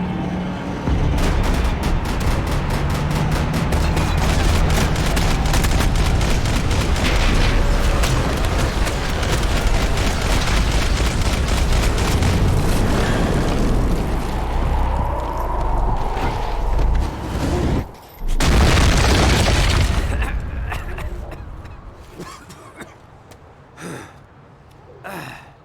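Gunfire in the Max Payne video game: dense, loud volleys of rapid shots and crashing impacts rattle almost nonstop, with a brief cut near the end before the fighting trails off into quieter scattered noises.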